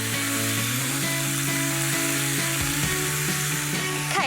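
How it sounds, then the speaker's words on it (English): Smoked bacon frying in a pan gives a continuous close sizzle and crackle, with a faint tonal hum beneath and no talking. "I'm going to add my bacon now, and I'm using beautifully smoked bacon."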